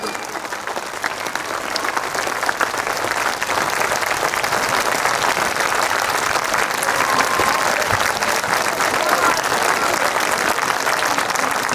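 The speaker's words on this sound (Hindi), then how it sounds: "1 मिनट तक आपकी तालियां बजाकर एक तालियों का अभिषेक कर दो।" An audience at a Hindi kavi sammelan poetry recital claps continuously, a dense, steady applause from a large crowd that holds throughout.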